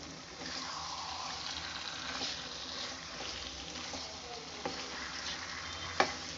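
Spoon scraping and stirring through a sizzling prawn curry masala in a pan, a steady frying hiss with a couple of sharp metallic clinks near the end.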